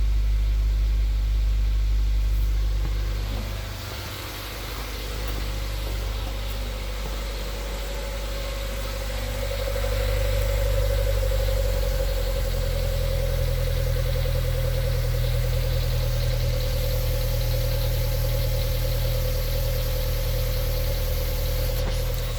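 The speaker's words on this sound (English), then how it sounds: "Oh yeah, nice and quiet. Just like a high quality Nissan Versa should sound." A Nissan Versa idling after a muffler and heat shield repair produces a smooth, low, steady engine hum with a faint mid-pitched drone and a slight dip in level early on.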